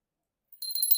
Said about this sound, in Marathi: हे बघा ही चेन आणि ही घंटी